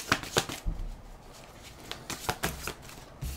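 Tarot cards shuffled and drawn at close range: quick papery riffles and a few distinct slaps as cards land, with no talking.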